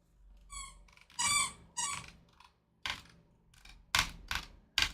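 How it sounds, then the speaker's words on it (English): A pet dog's squeaky toy being squeezed in short bursts, high pitched and clear, with the bursts spread unevenly over a few seconds in a quiet room. "if you hear squeaking in the background, that is my dog."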